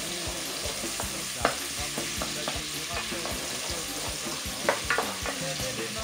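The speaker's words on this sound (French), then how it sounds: "nos oignons, il ne faut pas non plus qu'elles soient trop, trop roussies, on va juste les faire blanchir." Onions frying gently in a pan with thyme for a Réunion-style rice and potato dish, an even continuous sizzle with a few sharper pops and the scrape of stirring now and then.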